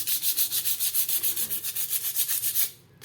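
A rusty scissors blade edge is rubbed back and forth to sharpen it, giving a loud, close rasping scrape in a fast, even rhythm of about a dozen strokes before it stops abruptly.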